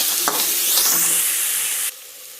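Egg bhurji frying in a pan with salt and turmeric as it is stirred: a loud, close hissing sizzle with a few scraping strokes, cutting abruptly to a quieter sizzle near the end, no speech.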